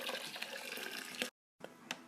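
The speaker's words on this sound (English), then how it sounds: "Then I will add the rice and cover it fully with water" Water is poured over rice in a cooking pot, giving a loud, splashing gush that cuts off briefly and then resumes.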